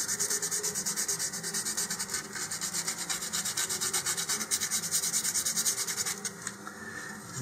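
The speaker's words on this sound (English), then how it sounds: "I'm going to take some 150 grit sandpaper here" Steady back-and-forth rasping of 150 grit sandpaper rubbing down the plastic seams of an Estes Baby Bertha model rocket, close and continuous with a regular stroke rhythm, alone without talk.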